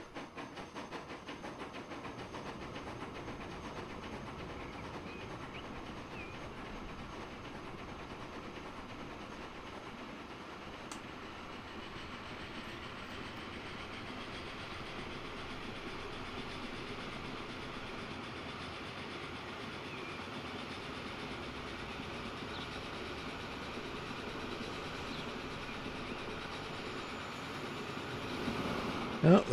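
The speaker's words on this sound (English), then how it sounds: "Oh, that was a train full of logs." A train rumbles past steadily in a Transport Fever 2 rail game, a continuous broad clatter and hiss at even volume for the whole stretch, with no talk over it.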